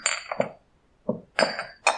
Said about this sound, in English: This is the sound of the clinking glasses.